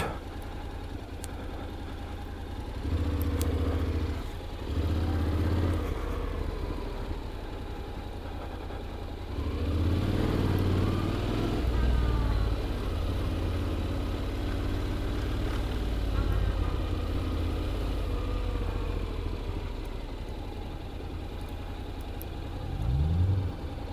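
A 2022 Honda X-ADV scooter is ridden along, its engine a steady low hum that swells in two louder stretches, with someone talking over it at times.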